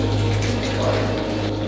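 Water from a tap or kettle pours steadily into a bowl of breakfast oats, a close, continuous rushing trickle with no talk over it.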